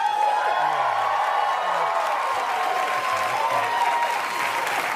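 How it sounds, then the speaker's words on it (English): Studio audience at a live comedy show applauds steadily, with a thick, even wash of clapping and a few cheers, while a voice murmurs faintly underneath. "let's not applaud yet."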